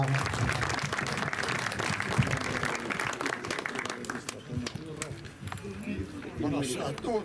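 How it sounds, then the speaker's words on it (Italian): An audience applauds a man from Tonara introduced on stage at a 2024 gathering: steady, dense clapping runs through the whole stretch at a constant level, with voices speaking over it. "un applauso a Domenico da Tonara"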